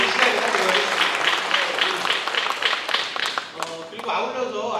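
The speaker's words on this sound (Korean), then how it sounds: "우리 응원의 박수를 먼저 한번 드리고 시작을 하도록 하겠습니다." Audience applause at a Korean community residents' meeting with the Sejong city mayor: lively crowd clapping that builds, thins out briefly, then resumes, with some voices mixed in.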